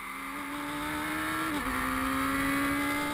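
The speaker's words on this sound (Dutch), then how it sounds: "hier hoor je het verschil heel duidelijk in die motoren" A race car with a Ford EcoBoost or Suzuki Hayabusa engine drives past on a circuit, giving a steady loud, high engine drone with a brief dip in pitch around the middle and no talking.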